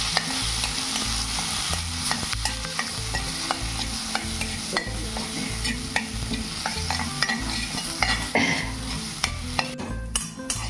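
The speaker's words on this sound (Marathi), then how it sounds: "त्याच्यात आता ही चटणी टाकून फ्राय करून घेऊ." Chutney fries in hot oil with cumin seeds, a steady loud sizzle with stirring scrapes running throughout, no voices.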